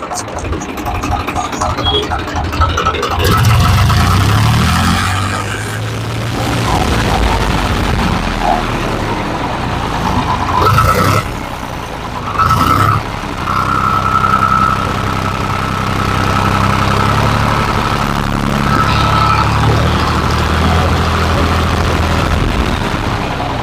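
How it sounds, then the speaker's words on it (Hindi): A Swaraj 735 XM tractor engine with newly fitted liners idles with a steady low rumble close by for a long stretch, with occasional mechanical clanks and shifts in tone; a voice briefly speaks. "ट्रैक्टर स्टार्ट हो गया"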